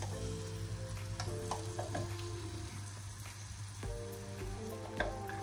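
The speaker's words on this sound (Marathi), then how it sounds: "आणि आता ह्याच्यातच मी टाकणार आहे आपलं वाटण, जे मी आता वाटलेलं, कांदा, खोबरं, आलं, लसूण वाला" A ground paste of onion, coconut, ginger and garlic frying in oil, giving a soft, steady sizzle with occasional clinks and scrapes of stirring, fairly quiet and free of speech.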